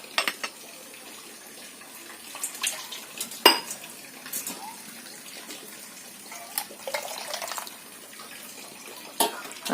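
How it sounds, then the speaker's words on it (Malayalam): Lukewarm water is added to a mackerel curry in a pan, with splashing and pouring alongside clinking utensils and pot knocks, intermittent and close. "ഞാൻ ഇളം ചൂടുവെള്ളമാണ് ചേർക്കുന്നത്."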